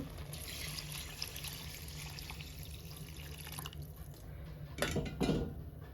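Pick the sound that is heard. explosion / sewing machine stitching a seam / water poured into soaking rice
water poured into soaking rice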